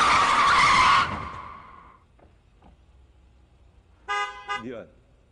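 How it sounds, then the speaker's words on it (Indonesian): A car skids with squealing tires as it nearly hits people in a Korean gangster drama scene, loud at first then fading, followed after a pause by a short burst of car horn honks. "Namun tiba-tiba sebuah mobil datang dan hampir menabrak mereka"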